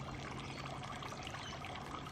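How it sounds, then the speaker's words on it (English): A garden water fountain in a cottage garden trickles and splashes continuously, a faint, steady pouring wash with no other sounds standing out. "Water fountain is going."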